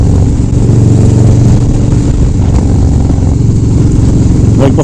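Motorcycle exhaust with a loud, deep, continuous engine roar close by, holding a steady rumble throughout without clear pauses.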